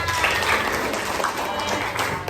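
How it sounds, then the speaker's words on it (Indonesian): A school class applauds itself after a science gallery walk, a short burst of many hands clapping at once with a faint voice underneath. "tepuk tangan buat kita semua"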